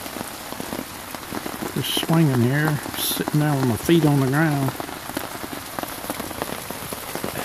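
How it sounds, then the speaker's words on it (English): Rain patters steadily on a hammock tarp that has been strung up for months, a soft continuous hiss running throughout while someone talks over it near the start and middle. "enjoying hammock in the rain."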